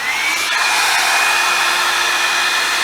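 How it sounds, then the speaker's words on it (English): A Revlon hair dryer brush blows on its low setting, producing a loud, steady whooshing roar with a thin, constant motor whine running unbroken throughout. "I'm gonna do it on the low setting to see how, like, even the low setting."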